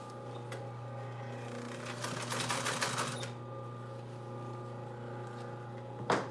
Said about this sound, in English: you can sew over zippers, but just go nice and slow